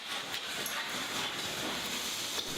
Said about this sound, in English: viewers can hear the deep, resonant sounds of the engine, the steady chuff of steam, the clicking of linkages, and the rhythmic beat of the crankshaft